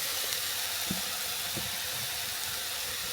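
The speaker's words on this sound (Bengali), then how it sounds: "সজনা ফুলগুলো ভালো করে ভেজে নেবো।" Moringa flowers fry in a hot pan with a continuous bright sizzle and hiss, punctuated by a couple of soft knocks from stirring.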